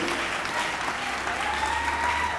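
Congregation applauding during a church service, steady dense clapping filling the whole moment with no talk over it.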